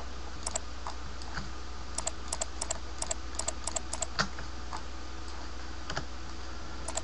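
Keyboard keys clatter in scattered single presses and short bursts during Blender modeling work, sharp and close over a low steady hum, with no talking.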